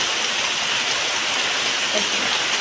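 Steady hiss of rain falling, a dense, even wash of drops on surfaces with no pauses.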